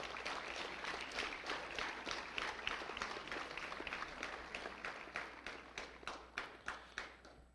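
A school board meeting crowd claps steadily for high school athletes. The dense applause continues for several seconds, then breaks into slower, distinct hand claps that fade toward the end.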